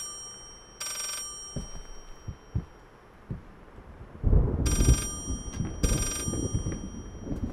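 Telephone in the horror video game Layers of Fear ringing in short repeated bursts, moderately loud, over a dark ambient rumble with scattered thuds.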